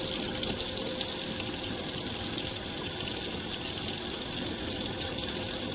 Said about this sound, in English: I can just wash it off underneath the hot water.